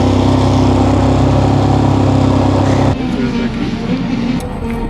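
A motorcycle engine runs steadily after being jump started on the road in Guatemala, loud and close with a constant mechanical drone that drops in level partway through as the idle settles.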